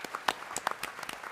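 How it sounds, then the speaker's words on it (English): A school board meeting audience claps for the Edison boys baseball team, a short, light, scattered round of applause. "How about a round of applause for the Edison boys baseball team?"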